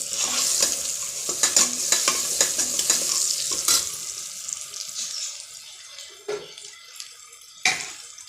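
Onions and green chillies sauté in a pan for mushroom biryani: rapid spatula scrapes over a bright sizzle, then the frying quietens, leaving a few sharp stirring clacks.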